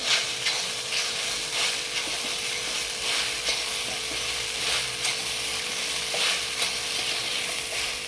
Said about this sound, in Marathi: आता आपण याला व्यवस्थित परत एकदा हलवून घेऊ